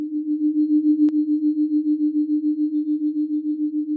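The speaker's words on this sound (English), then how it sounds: "Her only external stimulus comes from tones in her headphones." Binaural beat tones in headphones, a single steady low pure hum that pulses evenly in loudness several times a second, with one brief click early on, continuous and alone.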